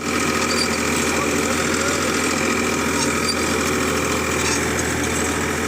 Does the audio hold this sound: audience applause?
no